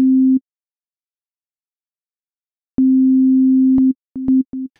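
A pure sine tone from Ableton Live's Operator synth sounds briefly, stops, then returns and holds steadily for about a second before breaking into a few short bursts. No voices.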